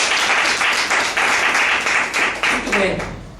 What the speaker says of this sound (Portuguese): Então vamos aplaudir o Senhor Jesus porque é verdade.